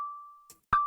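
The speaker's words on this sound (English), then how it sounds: "So let's say we have this bell and it doesn't say what note it's in" A bell sample plays in Melodyne: a sustained pure ding rings and fades, then a sharp clicky strike brings the ringing tone back, close and clean with no talk.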